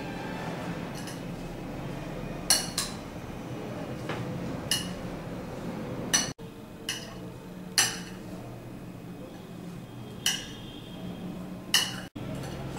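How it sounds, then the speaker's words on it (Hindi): A spoon clinks sharply now and then against a bowl while stirring grated ginger pickle with black salt and lemon juice, soft mixing noise between the scattered clicks. "इसके साथ ही हम नींबू के रस को मिलाकर इसको खूब अच्छे से मिक्स कर देंगे चम्मच से हम इसको खूब अच्छे से मिला देंगे"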